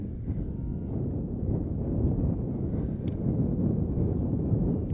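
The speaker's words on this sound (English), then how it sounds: "Wow, that wind is amazing." Strong wind gusts batter an outdoor microphone at a boys' high school soccer game, a dense, continuous low roar that swells and buffets for several seconds with no talk.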